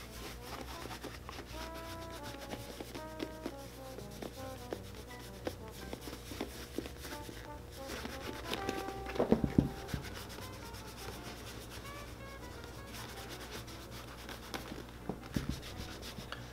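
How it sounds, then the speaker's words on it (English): A hand rubs conditioning cream into the smooth leather of a Thursday Boot Captain boot, making a soft, steady, close-up scrubbing and rubbing sound with a few slightly louder strokes midway. "just continue to rub that cream all into the boot"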